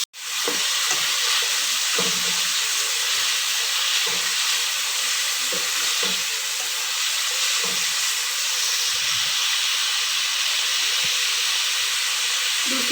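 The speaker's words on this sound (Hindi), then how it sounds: "इसको हम तकरीबन 2-3 मिनट के लिए इसको फ्राई करेंगे।" Food fries in a pan with a loud, steady sizzle and hiss that continues unbroken for the whole stretch, with faint stirring clicks beneath.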